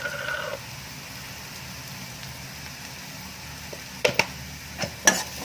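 A few sharp scrapes and taps of a utensil against a pan while stirring turmeric and salt into frying spices, spaced apart over a soft background hiss, with a faint sizzle early on.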